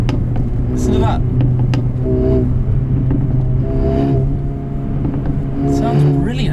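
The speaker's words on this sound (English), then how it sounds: "You can hear the exhaust just as I play it." Exhaust of a 2020 Mercedes-AMG CLA 35 blipped lightly on overrun, a steady engine drone with brief rises and pops, heard close while people talk over it.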